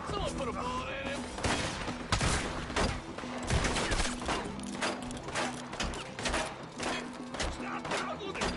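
Gunfire in Red Dead Redemption 2, repeated sharp shots scattered irregularly through the scene, some close and loud, others overlapping with shouting voices and game ambience.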